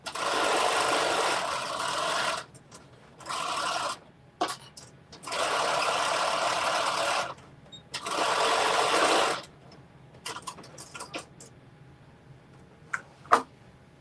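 A sewing machine stitches the inner leg seam of a pair of jeans in four loud, steady bursts, followed by quieter clicks and handling noises as the fabric is adjusted.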